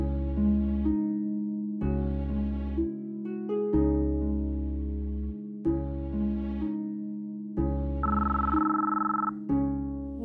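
A phone ringtone for an incoming call plays a repeating electronic melody in evenly spaced bursts, loud and close, with no voices.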